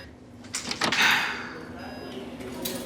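A door swings and thuds shut nearby, with a short rattle and scrape, amid room noise and a faint voice.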